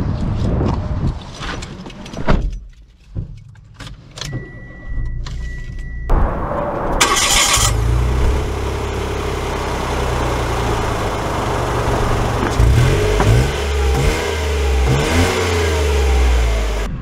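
A Mitsubishi Mirage starts up, then its small engine revs and pulls away as the car drives off, with a steady mid-pitched engine drone and cabin road noise continuing close and fairly loud.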